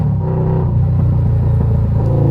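Heavy Night Rod motorcycle engine rumble reverberates off concrete in a hard-surfaced enclosed space, a continuous loud low drone with a hollow echoing quality.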